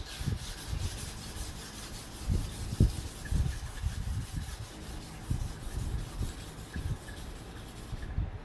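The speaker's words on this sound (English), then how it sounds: "I'll be doing the thinning first" A knife blade being thinned on a sharpening stone during a tip repair and reprofile, with continuous rhythmic back-and-forth grinding strokes close up, steady and moderately loud with no speech.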